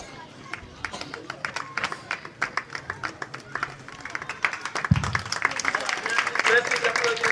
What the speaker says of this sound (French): Merci d'applaudir vos camarades